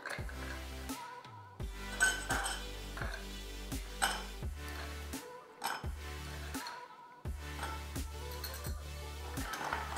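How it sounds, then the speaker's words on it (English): Ice dropped into a cocktail mixing glass for a clarified pornstar martini, a series of clinks and clunks, each with a ringing glassy decay, close and fairly loud, with short silent gaps between. "Add our ice."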